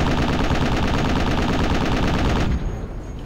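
Sustained automatic gunfire at a building in the video game Project Reality, a loud, continuous rattle of rapid shots that cuts off near the end, leaving a fading echo.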